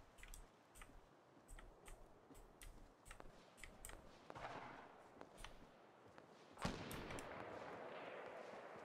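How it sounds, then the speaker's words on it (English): Single sharp crack of a sniper rifle shot in Fortnite, standing out against a quiet backdrop of faint clicks and small tapping noises, followed by a brief lingering tail. "That's a sniper. That's not my pistol."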